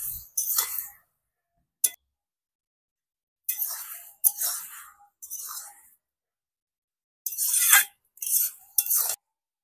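Ridge gourd with poppy seed paste and a little sugar stirred and cooked down in a pan: short, close bursts of scraping and clinking strokes in irregular clusters, separated by near silence.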